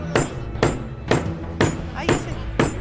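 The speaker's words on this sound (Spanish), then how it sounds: "Mientras más trayectoria tiene el martillo, más efectivo es." A hammer strikes nails during a workshop game show challenge, five sharp, evenly spaced blows roughly every half second, loud and close, with background noise between the hits.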